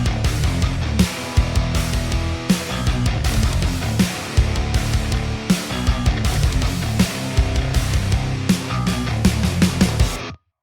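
Dense metal mix with heavy distorted guitars, Cream drum kit hits and Nocturnal Bass low end, playing loud and continuous, steady drum transients throughout, cutting off abruptly at the end.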